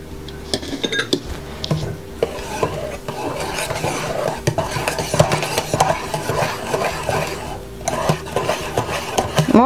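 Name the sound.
folding whipped egg whites into curd mousse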